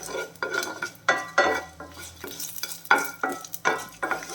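Green chillies fry in a pan for sambar, with repeated metal spoon scrapes and clinks against the pan over a soft sizzle, close and rhythmic.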